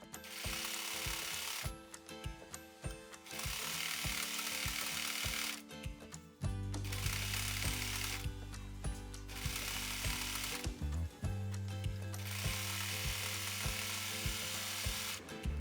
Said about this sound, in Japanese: 縫えたら粗ミシンを外してロックミシンをかけます